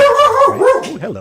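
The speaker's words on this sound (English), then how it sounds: "I apologize for the dog." A dog barks and yips close and loud in a short burst of several sharp calls, with someone briefly speaking over it.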